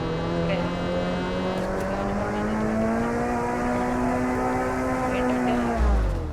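A car driven in an army-style shooter video game hums with a steady engine drone whose pitch creeps slowly upward, then dips near the end.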